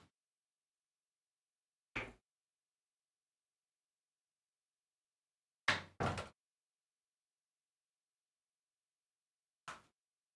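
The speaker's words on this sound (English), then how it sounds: "Let me close this door." A door in a quiet room thumps and clicks shut in four brief, separate knocks, with a close double bang near the middle.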